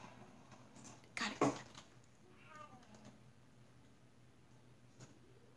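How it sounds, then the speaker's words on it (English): A cat meows in the Minecraft minigame Mineplex Wizards, a short cry rising over quiet game ambience after a pair of sharper clicks and thumps, moderately close and fairly faint. "Is that a cat or something?"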